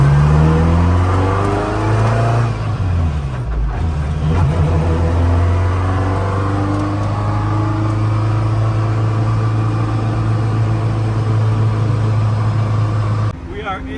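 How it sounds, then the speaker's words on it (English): A gray Ferrari F40 supercar drives with a loud, sustained engine drone heard from inside the cabin, the pitch climbing and shifting as it accelerates, with brief dips between gears. "We are now in the gray F40."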